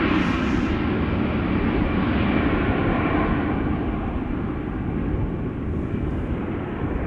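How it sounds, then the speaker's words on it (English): A Lufthansa CRJ9 regional jet at Schiphol Airport, its engines giving a loud, continuous broadband roar that holds steady and fades slightly toward the end. "Lufthansa flight 999. The CRJ9 going to Frankfurt."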